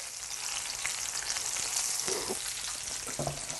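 Onion goes into a hot pot while cooking ramen, producing a steady loud sizzle and frying hiss with a few small crackles and stirring scrapes.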